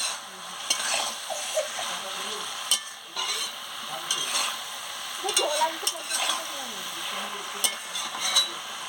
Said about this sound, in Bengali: চাপাটা খুলে নিচ্ছি, খুলে নিয়ে ভালো করে নাড়িয়ে নিচ্ছি